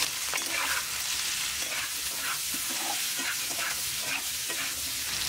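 Boiled potatoes being stirred as they fry in a pan over a medium flame, a constant loud sizzle with repeated scraping stirs of the spoon across the pan, no voices.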